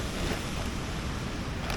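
Savatkada waterfall at Chunakolvan in the Konkan, swollen with monsoon water, gives a steady broadband roar of rushing water, loud and continuous with no voices.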